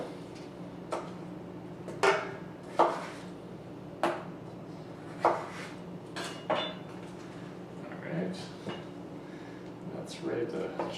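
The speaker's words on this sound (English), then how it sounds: "I cut it into a quarter the cucumber into basically sticks like this" A knife slices a quartered cucumber into sticks on a board, giving sharp separate chops at an irregular pace over a low steady hum, with soft kitchen clatter between cuts.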